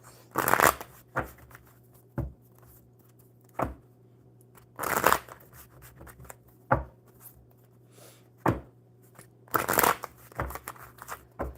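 Playing cards shuffled by hand in several quick riffling bursts with pauses between, near and fairly loud over a steady low hum.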